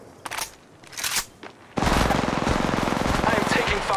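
Video game gunfire in Apex Legends Mobile: a few scattered single shots give way to a sustained rapid automatic burst, loud and close.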